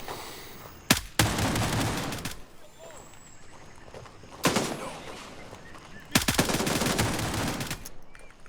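Automatic gunfire in the shooter Gray Zone Warfare comes in three loud, close bursts of rapid shots separated by quieter stretches of ambient background, with speech faintly present underneath.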